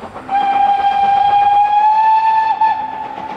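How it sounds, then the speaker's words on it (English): A historic train fitted with a rotary snowplow on Boreas Pass sounds one long, loud, steady whistle blast, close and clear over faint background noise. "That's a giant snowplow on the front of that train."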